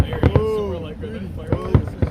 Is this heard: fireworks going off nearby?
yes